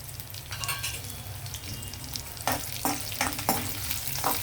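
Cumin, mustard seeds and dried red chillies fry in hot oil for a amaranth leaf and potato stir-fry, a continuous crackling sizzle punctuated by spatula scrapes and stirring strokes, close and fairly loud.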